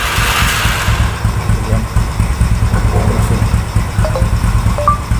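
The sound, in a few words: motorcycle engine running, started by voice command via Android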